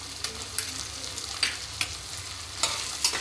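Mixed vegetables and peas stir-frying in a pan with salt, a soft steady sizzle broken by several sharp scraping and clinking strokes of a spoon at irregular intervals, no talking.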